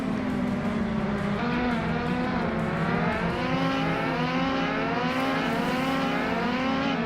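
Caterham 620R race cars in a racing video game drone with a loud, continuous engine whine, revs rising and falling with each gear change, with no talk.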